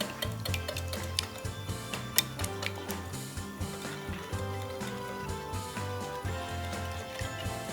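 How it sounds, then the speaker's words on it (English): Eggs being whisked together for a panettone bread pudding custard, a quiet, rapid, steady ticking and clinking of a whisk against the bowl, continuous and close. "I'm just going to give all this a whisk together. Make sure the eggs are broken up."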